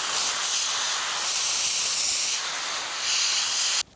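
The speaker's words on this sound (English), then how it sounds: "I'll take some compressed air and just blow it out" Compressed air blasts dirt out of the oil strainer of a Honda NSC50 Vision scooter engine. A loud, steady, close hiss holds for several seconds and then cuts off abruptly.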